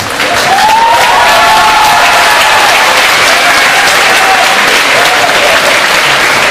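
An audience at a school fall evening of music gives loud, sustained applause for the whole band, with some cheering and whoops mixed into the steady clapping.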